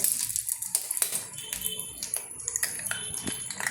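An egg cracked and emptied onto a banana leaf for an omelette: a few sharp, close taps and clicks stand out over a quiet room, with no voices.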